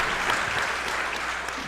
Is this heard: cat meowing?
no